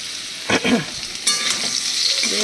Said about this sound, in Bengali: দেখো আলুগুলো আমার বেশ ভাজা ভাজা হয়ে গেছে।